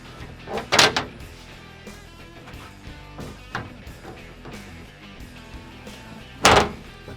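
Metal slide floor drawer unit for an INEOS Grenadier thuds into place: a few scattered knocks and clunks, with one loud double thump early and another sharp clunk near the end, no talking.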